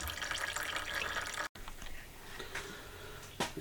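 Gear oil runs out of the manual transmission of a Skoda Octavia 3 tilted on a lift, a steady low liquid trickle with a brief dropout and a few faint clinks.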